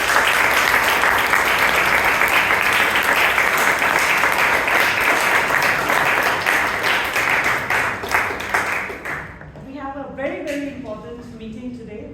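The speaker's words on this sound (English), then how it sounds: "can we once again have a big round of applause for all the role takers?" An audience at a Bangalore Toastmasters club meeting applauds in a dense, steady burst of many hands clapping that fades out over the last few seconds as a voice begins to speak.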